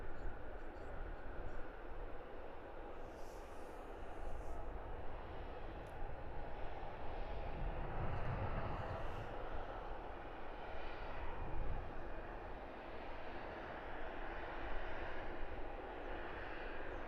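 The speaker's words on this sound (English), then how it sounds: "Aircraft on your screens now. EasyJet flight 2451." An easyJet Airbus A320-200 rumbles at Luton Airport, a distant, low, broad engine roar that swells and fades across the stretch, with a voice talking over it in parts.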